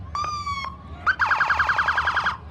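A loud fire truck siren wails at a homecoming parade, then switches to a fast warbling yelp pattern, close and piercing.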